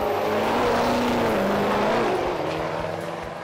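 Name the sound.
Chevy Silverado Duramax diesel truck launching down drag strip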